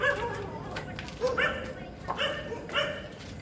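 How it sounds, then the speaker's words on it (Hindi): Several dogs bark at night outside an old, eerie building, with a handful of sharp yelping barks coming in bursts at moderate distance over a low background hum. "कुत्ते भौंक रहे हैं इस वक्त,"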